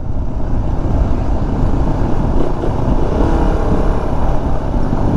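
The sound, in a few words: road traffic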